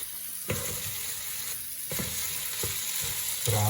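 Food frying and being stirred in a pan for a Balkan-style moussaka with meat and potatoes: steady close sizzle with a few clattering stirs of a utensil against the pan, no voices.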